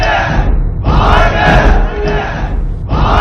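A crowd at a Tamil stage play shouts and cheers in loud bursts to praise an archer's feat with the bow. The roar breaks off briefly and then surges back.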